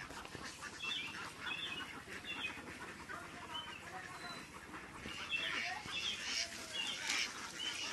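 Ducks on a duck farm where eggs go to a hatchery, faint quacking calls repeated irregularly over a low background murmur, growing somewhat busier toward the end.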